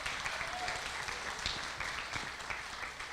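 A church congregation applauds after a healing testimony at a Portuguese-language service, a faint, distant wash of many hands clapping steadily.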